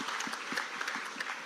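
A crowd at a State House ceremony for signing Kenya's Affordable Housing Bill breaks into steady, dense applause, a continuous wash of clapping with no voices over it.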